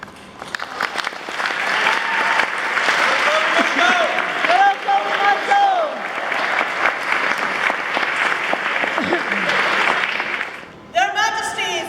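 An audience at a court ceremony applauds steadily and loudly for several seconds, a dense wash of clapping with scattered voices and tones mixed in, tapering off near the end.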